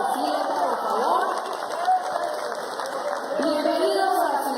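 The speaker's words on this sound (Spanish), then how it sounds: "Un aplauso que se siente," A crowd at a national gathering of alternative and community media in Armenia, Quindío, claps and cheers continuously. Shouting voices and chatter mix into the moderately loud applause throughout.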